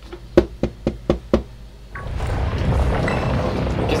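Someone knocks on a door in Pokémon Violet: five quick, evenly spaced raps, followed by a louder, dense rush of game sound with no voice.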